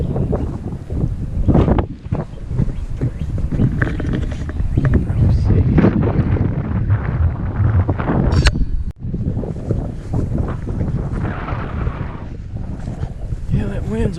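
Strong wind blowing outdoors beside an old country store, a loud steady roar buffeting the microphone with gusts and brief dips, with a voice faintly under it.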